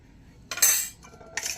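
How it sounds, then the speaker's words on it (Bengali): A spoon mixes eggless vanilla sponge cake batter with baking powder and baking soda in a bowl, giving two short bursts of scraping and clinking, the first louder, with near-silence between them and no talk. "আবারও ভালো করে মিশিয়ে নেব।"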